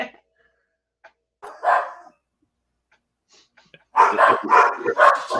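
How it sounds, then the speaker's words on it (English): Dogs bark in short bursts, one brief yelp early and then a rapid cluster of several barks near the end, close by and clear against otherwise quiet surroundings. "dogs are barking."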